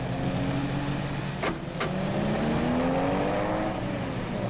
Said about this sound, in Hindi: स्लो चलाओ गाड़ी